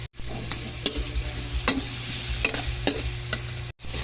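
Ground meat sautéed with tomatoes and bagoong sizzles steadily in a pan, with periodic scraping stir strokes about every half second and a brief drop near the end; no one speaks.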